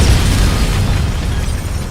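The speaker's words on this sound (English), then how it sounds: "A math lab explosion" A loud, broad explosion boom from a comedy sketch's math lab blast rumbles and hisses for about two seconds with no talking.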